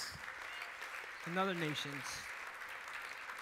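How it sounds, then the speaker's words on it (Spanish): A church congregation gives a round of applause during a sermon, a soft, distant patter of clapping running throughout while a voice briefly speaks over it in the middle. "Le da ese aplauso fuerte"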